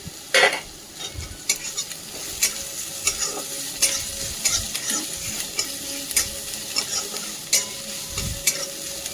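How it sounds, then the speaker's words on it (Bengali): Grated ginger-garlic paste sizzles steadily in a hot pan while a spoon scrapes and stirs at irregular intervals, close and clear with no talking. "এবারে এতে দিয়ে দিলাম আদা রসুনটা যে গ্রেট করে রেখেছিলাম"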